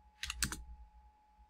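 A few quick keystrokes on a computer keyboard, close and quiet, clustered in a short burst before trailing off into near silence.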